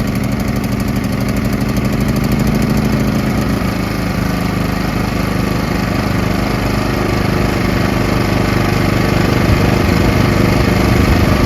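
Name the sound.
Powersmart portable generator engine running after warm-up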